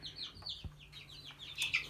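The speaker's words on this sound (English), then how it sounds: "the famous chicken of the channel, we have Duck" Chickens cluck and chirp softly in short, repeated high calls, close by and fairly quiet, with a faint thump partway through.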